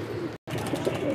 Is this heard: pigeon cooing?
yes